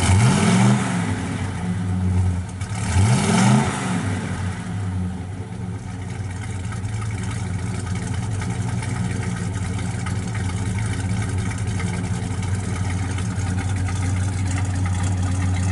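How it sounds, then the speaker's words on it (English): A 1967 Chevrolet Chevelle SS 396 with stock-type mufflers revs twice through its exhaust in quick succession, each blip rising and falling, then settles into a steady, deep idle rumble heard up close. "Sounds good out the exhaust."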